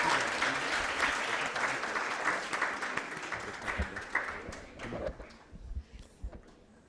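Audience at a moot court competition final applauding in a dense, sustained patter that gradually thins out into a few scattered, separate claps before falling quiet.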